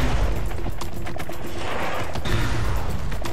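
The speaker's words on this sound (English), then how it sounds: "It shoots like fast rockets." A rapid-fire rocket or grenade launcher shoots in the Serious Sam 3 video game, a loud, dense barrage of overlapping blasts that runs without a break.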